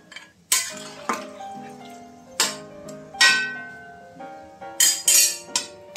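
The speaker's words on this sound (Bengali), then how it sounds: "আবার একটু নেড়ে নেব।" Spoon clinking and scraping against a pan while stirring aubergine and vegetables for Bengali shukto, a series of sharp metallic clinks with ringing tails spaced irregularly, close and clear with no talk.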